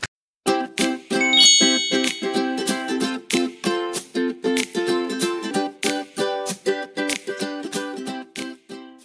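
Bright ringing notification bell chimes repeat steadily in a rapid rhythmic series of dings with sustained tonal overtones, loud and clear, with no talking.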